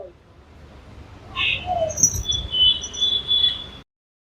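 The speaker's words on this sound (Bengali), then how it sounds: "সবশেষে তোমার আমার প্রিয় পাখিদের দেখে নিই। জাভা, এবার নানা রকম লাভ বার্ড রয়েছে।" Java sparrows and lovebirds in a pet shop give short high chirps and thin whistled calls, several overlapping tweets close by over a low room murmur.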